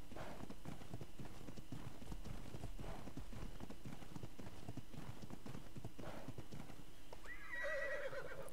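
A unicorn horse in the ARK: Survival Evolved game clip-clops in a steady, busy rhythm and neighs loudly near the end, both close and clear, with no talk.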